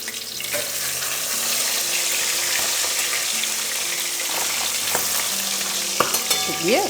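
Fish fries in a covered pan over a lowered flame, giving a steady, dense sizzle that holds throughout, with a few faint clinks and a short squeak near the end.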